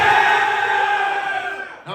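An audience at a Christmas event lets out a loud, brief burst of cheering and yelling that fades out over about two seconds.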